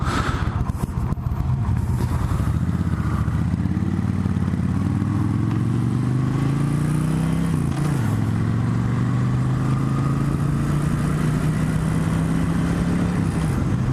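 A 1996 Suzuki VS1400 Intruder cruiser motorcycle is ridden, its big V-twin engine rumbling loudly and pulling up through the revs with steady wind noise, heard from the rider's position without talk.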